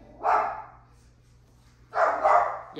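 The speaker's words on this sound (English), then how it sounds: "Y'all, that may be Meechin coming in now because Milo is barking" A pet dog barks indoors, two separate bouts of barking with a quiet gap between them, moderately loud and a little distant, no talk.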